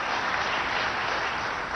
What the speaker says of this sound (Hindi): आप भी तालियां बजा के उनका अभिनंदन करें।